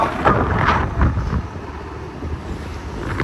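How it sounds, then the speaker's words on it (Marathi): Strong wind buffets the microphone outdoors near a temple entrance gate and busy market, a steady low rumble with gusts rising and falling throughout and no voices. "वारा एवढा येते, आवाज तुमचा माझ्यापर्यंत जाते की नाही मला माहिती नाही"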